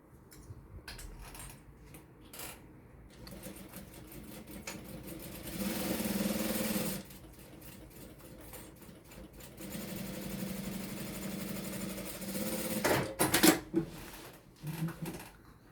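Sewing machine stitching a fabric toiletry bag with backstitches, running in several bursts of steady mechanical whirring separated by brief pauses, close and moderately loud with no talk.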